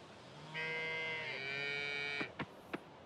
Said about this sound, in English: Hey, can I milk that cow right away?